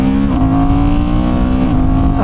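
A Honda Hornet 750 motorcycle accelerates on a highway, its engine a loud, close, continuous drone rising in pitch, briefly dipping at a gear change and climbing again.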